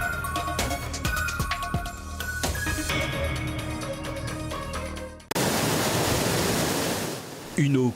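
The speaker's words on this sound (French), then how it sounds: "la cascade d'Ani est un joyau caché au cœur d'Ajoupa-Bouillon" The Cascade d'Ani waterfall in Ajoupa-Bouillon, Martinique, a steady dense rush of falling water that takes over abruptly after a stretch of music, loud and continuous.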